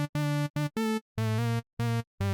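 Synthesizer patch built from a sine and a saw oscillator detuned by nine semitones, playing a short staccato riff of about seven bright, buzzy notes with clean gaps between them, loud and alone.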